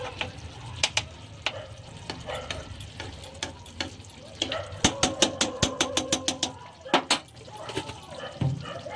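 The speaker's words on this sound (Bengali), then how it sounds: "তো সবশেষে আমি গরম মশলা ঘি দিয়ে ভালো করে আবার মিশিয়ে নিচ্ছি।" Garam masala and ghee are stirred into a Bengali prawn malai curry in a pan. Close, steady sizzling runs under repeated scraping strokes of a spoon, which grow louder and more rhythmic midway.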